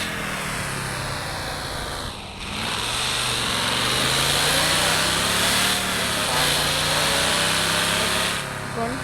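A car engine in the Car Parking mobile driving game hums and revs while the car drives, the pitch rising and falling steadily over about nine seconds at a close, loud level.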